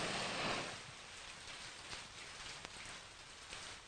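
Rain falls steadily in an even, hissing wash, with a few sharper drops tapping nearby and no voices.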